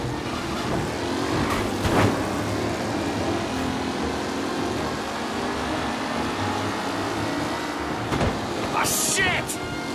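Race cars speeding around the Lost Heaven circuit in the Mafia video game, a steady engine drone with occasional sharp passing bursts and a high squeal near the end, under voices talking.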